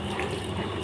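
Cold water runs from a motor-fed tap into a tank or container, a steady gushing splash that fills the short moment at constant loudness.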